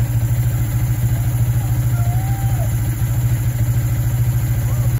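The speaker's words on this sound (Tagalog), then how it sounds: "pansinin niyo yung aking idle" A motorcycle engine idles at around 1,650 RPM just after a throttle body cleaning, giving a loud, close, evenly pulsing putter that holds steady throughout, with no talk.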